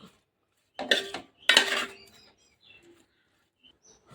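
Prawn fry with curry leaves tossed in a pan, with two short bursts of metal scraping and clatter close by, followed by faint, scattered clinks and quiet gaps.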